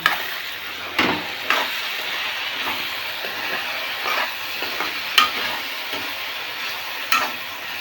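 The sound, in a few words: potatoes frying in a pan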